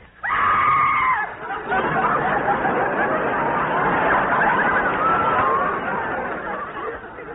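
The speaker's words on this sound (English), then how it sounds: "Oh, no, I'm sorry I screamed." A mother's loud, sustained scream in a live radio drama staging of The Orson Welles Almanac bursts out for about a second at the start, then gives way to a noisy, crowded hubbub of chatter that fills the rest of the clip.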